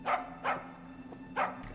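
The dog Rilka barks in the horror game Tiny Bunny, three short woofs in quick succession, fairly close and clear, with a faint low hum underneath.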